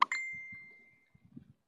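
A chat message notification on a phone or tablet gives one bright ding whose metallic tone rings and fades, followed by a few faint soft taps.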